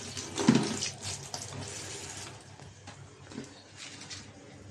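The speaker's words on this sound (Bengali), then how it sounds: "পানি জড়াবার পর একটু পরিষ্কার পানি দিয়ে আবার ধুয়ে নিলাম।" Tap water runs while dried fish is rinsed clean in a kitchen sink, a close, steady splashing flow with a louder gush near the start that settles into softer trickling.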